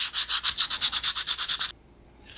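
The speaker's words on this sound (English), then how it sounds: "There's a couple little spots that I want to sand" Sandpaper rubs back and forth over a wooden woodworking project being dyed, about fifteen quick, even, rhythmic scrubbing strokes close up, then stopping abruptly into near silence with a faint touch at the end.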